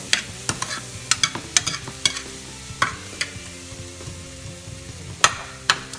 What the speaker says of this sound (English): Now my dad is gonna stir it all, but be careful, really hard.